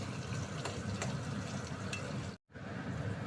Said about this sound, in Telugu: జీలకర్ర వేసుకుని ఉప్పు, ఆనియన్స్, పచ్చిమిరపకాయ ఫ్రై చేసుకోవాలి